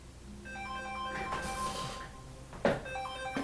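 A phone ringtone plays a melodic electronic chime in a repeating tonal pattern, fairly quiet and close, broken by a couple of brief noisy knocks.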